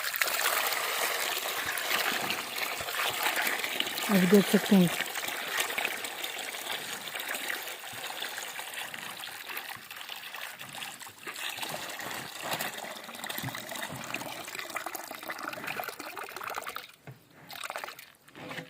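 Water trickles steadily into a tank while a buffalo drinks from it, a continuous close splashing flow running throughout with a few brief spoken words partway through.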